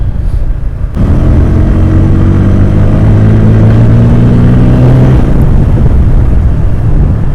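Bajaj Pulsar N150 motorcycle with a throttle problem, engine pulling hard in fifth gear on the road, a loud, close, steady drone whose pitch climbs smoothly before easing off, over heavy wind rush.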